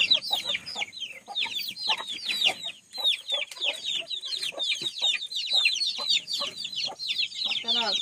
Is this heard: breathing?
no